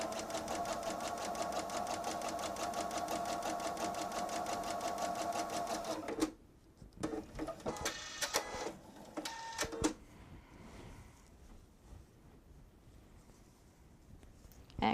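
Sewing machine stitching a quarter-inch seam on a fleece wine tote, a fast steady rhythmic whir for about six seconds, then short bursts of stitching and handling noise before it stops.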